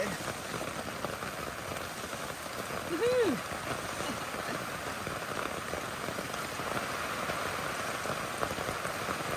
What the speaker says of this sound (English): Rain is finally here, and it's here with gusto.